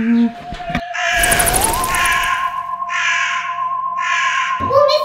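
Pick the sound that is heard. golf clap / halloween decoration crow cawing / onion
halloween decoration crow cawing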